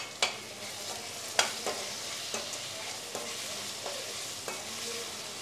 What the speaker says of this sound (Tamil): போட்டுட்டு நல்லா இதுவும் கொஞ்சம் பச்சை வாடை போக அது நல்லா வதக்கிட்டு தக்காளி போடணும்